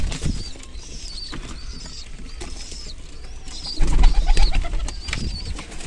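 Pigeons coo repeatedly in a breeding colony of kabli and gola pigeons, overlapping rolling calls close by, with a few louder thumps and flutters of movement among them.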